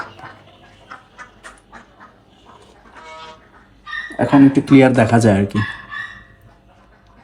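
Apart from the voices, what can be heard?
farm ducks and chickens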